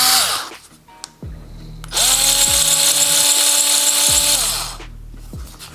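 A small Ryobi USB Lithium 4V cordless cutter runs in a steady high buzzing whine for about three seconds, loud and close, starting and stopping with short motor spin-up bursts before and after.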